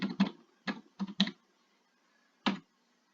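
A password is typed on a computer keyboard in short bursts of crisp key clicks, a few quick strokes, a pause, then one last key, close and clear with no talk.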